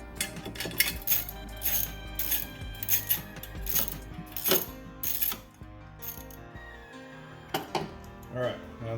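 A ratcheting wrench tightens the bolts on the air filter of a 1974.5 MG MGB, giving a run of quick metallic clicks and clinks in irregular bursts at close range.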